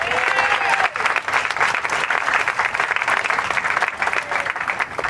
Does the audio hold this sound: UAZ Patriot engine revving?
no